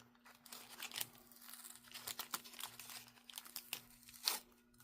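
Paper tears and crinkles as it is peeled away from a small mini masterboard, with quiet scattered rips, rustles and a few sharper pulls, close and soft.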